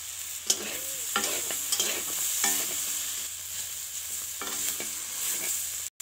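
Beans and potatoes sizzling and frying in a pan with turmeric and chili powder, with repeated scraping and stirring strokes of a utensil throughout; no voices.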